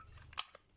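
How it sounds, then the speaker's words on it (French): A paper punch snaps through a tag for a gift card pouch, one short, sharp crunching click in the middle of an otherwise quiet moment. "je vais venir couper mon étiquette dans ma perforatrice"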